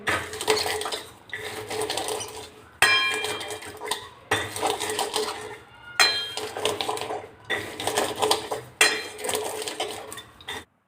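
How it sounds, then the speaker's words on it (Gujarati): Roasted peanuts pressed and rubbed inside a pan with a metal lota to loosen their skins give repeated bursts of close rattling and scraping of metal on nuts, with short pauses between strokes and no talk. "લોટાની મદદથી આ રીતના આપણે દબાવીશું, એટલે જે શિંગદાણાના જે ફોતરા છે એ ઇઝીલી નીકળી જશે"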